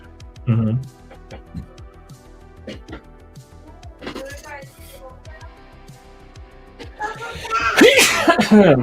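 A sharp sneeze bursts out early, followed by scattered clicks and movement, then a loud burst of voices and laughter near the end.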